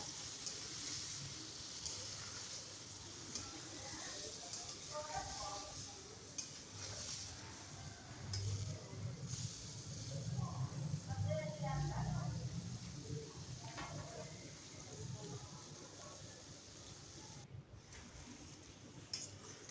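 Ginger garlic paste fries in a karahi with a steady, soft sizzle and hiss, broken by occasional stirring scrapes. A person speaks over it throughout.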